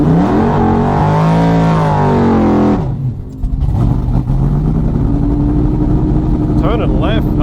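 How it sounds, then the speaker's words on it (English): A car does burnouts at a drag racing event at Springmount, its engine revving loud and close. The steady roar falls off briefly near the middle, then builds again into sustained high revs. "Turning right hard in these burnouts in the left lane."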